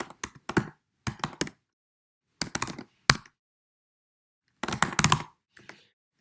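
A computer keyboard is typed on in short, quick bursts of close key taps separated by silent pauses, fairly quiet and with no talking.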